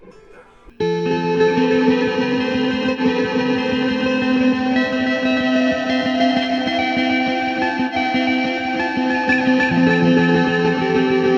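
Sustained electric guitar chord through a reverb effect pedal rings out with a long wash of echo, loud and steady after a quiet start, no talking.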